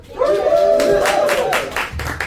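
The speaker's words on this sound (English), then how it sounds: "Guys, you got claps. I didn't get claps." A live audience bursts into brief clapping mixed with a whooping cheer, loud and close, swelling quickly and fading within a couple of seconds.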